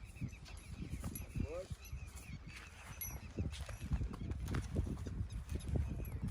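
A young horse's hooves clip-clop in an uneven rhythm on the ground during single-foot gait training, heard fairly close, with someone talking over them and a brief whinny.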